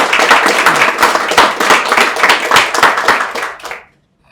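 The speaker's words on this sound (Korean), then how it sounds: "먼저 환희 박수와 함께" An audience at a political gathering with reserve army veterans claps vigorously, a dense burst of hand claps that stays loud for several seconds before stopping sharply.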